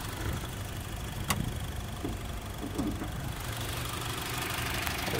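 2015 Honda Civic Si coupe with a 2.4-liter engine idling under an open hood, a low, steady and quiet hum with a faint mechanical ticking, close by with no talk.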